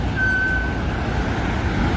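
Heavy cars and trucks stream through the Nishi-Shinjuku junction in Tokyo as a dense, steady traffic roar, with one brief high tone near the start and no voices.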